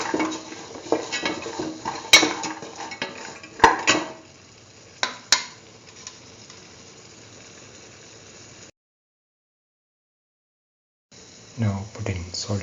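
Chickpea and potato filling is stirred in a pan, with a spoon scraping and clinking against the metal in irregular strokes and sharp taps, close and moderately loud, then a pause before a final burst of stirring.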